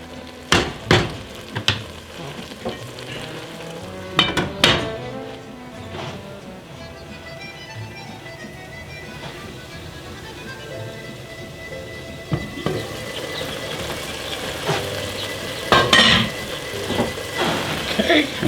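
Onions cooking down in a pot for French onion soup give a steady soft sizzle throughout, broken by several sharp utensil knocks and scrapes near the start and again toward the end.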